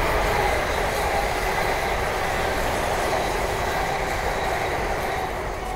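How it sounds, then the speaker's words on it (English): A pair of London Northwestern Railway Class 350 electric units passing at Linslade on the West Coast Main Line, a loud, steady, close rushing roar with rail rumble that holds throughout and eases only slightly at the end. "the next train to pass by is a pair of London or Western Railway Class 350s from Birmingham New Street to London Euston"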